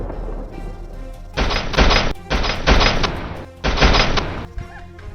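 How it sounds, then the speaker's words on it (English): Three loud, sustained bursts of rapid gunfire during a wild boar hunt in deep snow, each lasting about half a second to a second, separated by short pauses over a low background rumble. "The gunshots rang out once again."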